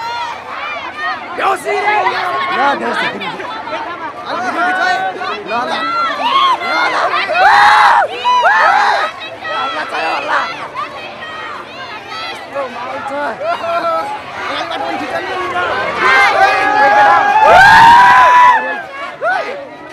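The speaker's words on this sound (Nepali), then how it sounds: "यस्तो हल्ला छ माहौल" A big crowd of college students shouts and cheers nonstop at an HIV/AIDS awareness event in Dhangadhi, loud and chaotic, with chatter mixed in and a surge of yelling toward the end.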